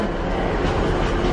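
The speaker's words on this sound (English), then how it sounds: "Okay, it's these trains." Steady rumble and rattle inside a moving UK passenger train, continuous broadband rolling noise with faint rhythmic wheel clatter, close and even throughout with no talking.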